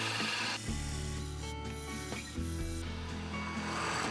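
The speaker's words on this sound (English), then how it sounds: "I'm just going to swap now to the smaller gouge, the spindle gouge." A spindle gouge cuts a wooden rolling pin spinning on a lathe, producing a loud continuous rasping scrape over the low drone of the motor, with slight shifts as the tool moves.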